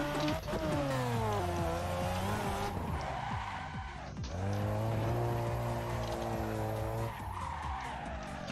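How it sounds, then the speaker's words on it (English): A car's engine bogs and strains through a cone-lined testing session, its revs sagging and recovering in long swooping drones while tires squeal and skid, loud and close, with brief dips between runs. "Car is bogging still."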